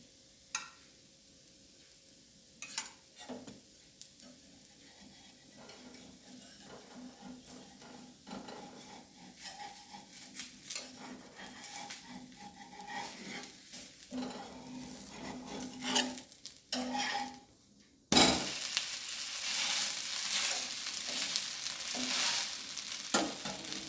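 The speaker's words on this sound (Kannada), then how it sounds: "ಇದಕ್ಕೆ ಮೇಲಿಂದ ಹೀಗೆ ಎಣ್ಣೆ ಹಾಕಿಕೊಂಡು" Aloo dosa cooks on a griddle with quiet sizzling and scattered scraping taps for most of the stretch, then a sudden loud, dense sizzle erupts near the end as oil is poured on top.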